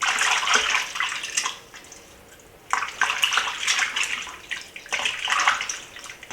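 Water runs steadily from a tap into a bowl, a continuous splashing rush that pauses briefly in the middle before resuming, close and fairly loud.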